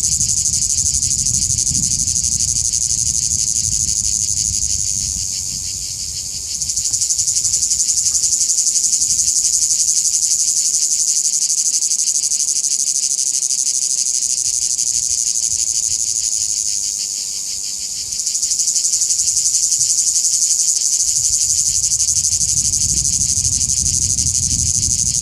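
Loud, dense shrill drone of cicadas singing in Provence, a continuous pulsing chorus that dips briefly twice before swelling back, heard close with no voices.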